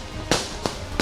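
Firecrackers set off by political party workers during a celebration, three sharp loud bangs spaced about a third of a second apart over steady background noise.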